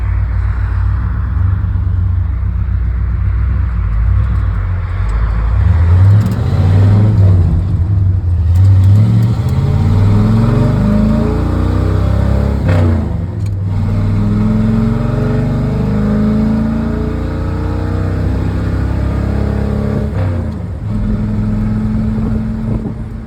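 A 1969 Ford F350 with long tube headers and Flowmaster Super 10 mufflers drives along, its loud, deep exhaust rumbling steadily as the engine revs climb and fall through several gear pulls, with no voices.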